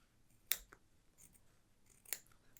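Scissors trim the binding on a quilted jacket, two sharp close snips about a second and a half apart over a faint quiet background.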